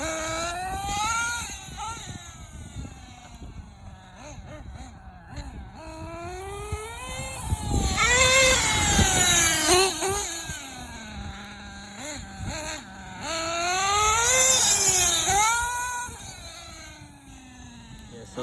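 Nitro RC engine, a K5.9 with sealed backplate fitted with an LRP Spec 2 carburettor, running and revving in loud rising and falling whines with several sharp throttle bursts, close up.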